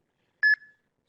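A single short electronic beep from a presentation animation in a planetary science talk sounds alone against silence, clean and tonal with a faint tail.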